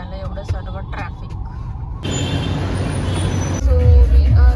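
Busy road traffic outside a temple, with loud engine rumble, passing vehicles and the hiss of a bus air brake building up near, mixed with distant honks and sirens.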